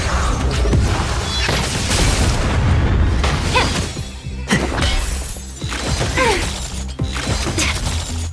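Explosions detonate in the Honkai Star Rail video game: a run of loud booms and shattering bursts arriving in quick succession, close and heavy over several seconds of battle effects.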